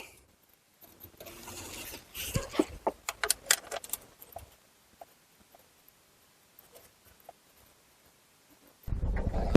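Two Torx T25 bolts tightened on the transmission filter of a 62TE transmission in a Chrysler Town and Country or Dodge Caravan, heard as quiet, close clicks and rattling metal taps in irregular bursts.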